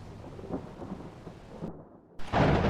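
Thunder rumbles low and distant under a steady wash of rain, then a loud burst of heavy rain or a crash of thunder swells close at the end.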